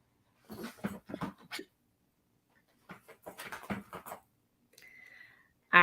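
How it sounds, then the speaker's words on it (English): A small puppy whimpers inside a cage. Several short, breathy whining bursts come close together, and a high, thin whine rises near the end, with quiet gaps between them. "I have two little puppies, and I got one in the cage and one not."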